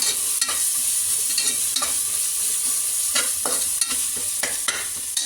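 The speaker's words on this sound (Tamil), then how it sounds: "வெங்காயம் வதங்கினதுக்கப்புறம் இஞ்சி பூண்டை பேஸ்ட்டு போடணும்" Ginger garlic paste frying with onions for mutton biryani hisses in a steady loud sizzle, broken by several sharp scrapes and clacks of a stirring spoon against the pot.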